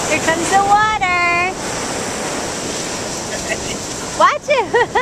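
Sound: ocean waves washing onto shore

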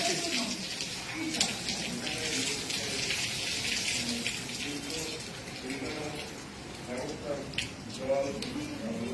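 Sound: water spraying onto plants from a hose

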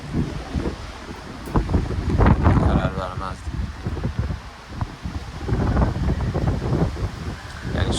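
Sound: strong storm wind gusts

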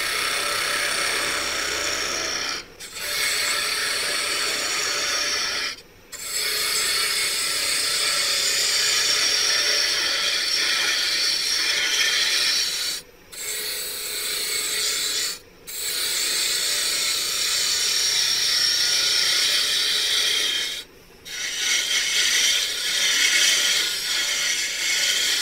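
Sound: woodturning a mason jar vase on a lathe

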